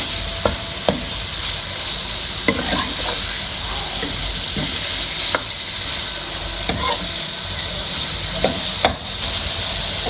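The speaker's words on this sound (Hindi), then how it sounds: "इसकी थोड़ी भुनाई कर दें कीमे की" Beef keema mince frying in a pan, a constant hiss of sizzling with occasional sharp clinks and scrapes of a spatula spread through the stretch, close and steady with no voices.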